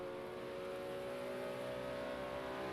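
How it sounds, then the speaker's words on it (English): A GT3 race car in Project CARS 2 on PS4 holds a steady, faint, high engine drone with a constant tonal whine, as if revving in place during a burnout. "Oh, Vortex doing some burnouts for us."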